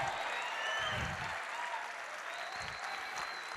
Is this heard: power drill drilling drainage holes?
no